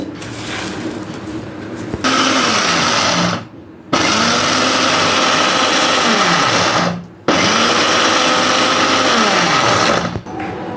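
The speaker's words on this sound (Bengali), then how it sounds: "এগুলো একসঙ্গেই ব্লেন্ড করে নেব" An electric blender grinds small whole spices for shahi masala, a loud steady whirring roar in three long bursts that stop briefly between runs.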